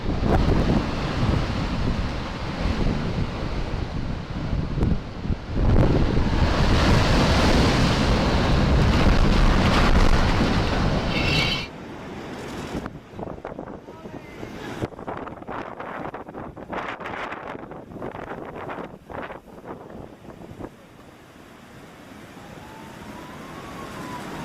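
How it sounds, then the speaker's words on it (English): Strong ocean waves crash ashore in Portugal and surge over garbage bins, making a loud, sustained roar with heavy wind noise. The roar then drops into quieter rushing and hissing water with scattered splashes. "Strong waves in Portugal decide to give some garbage bins a good clean."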